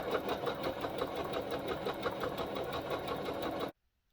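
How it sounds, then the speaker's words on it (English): A home sewing machine runs a zigzag stitch, set to 2.6 length and 1.5 width, while assembling a children's tee. It gives a steady, fast, close mechanical whir for several seconds and then stops abruptly into silence. "I am using a zigzag stitch."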